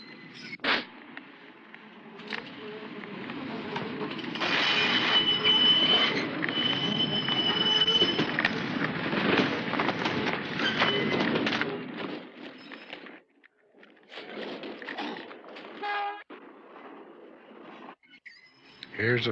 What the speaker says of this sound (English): Here comes the B train on Lakeshore Avenue.